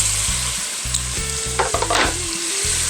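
Meat cubes fry in browned butter in a hot pan, a dense close sizzle with a few stirring scrapes, over a steady pulsing low hum.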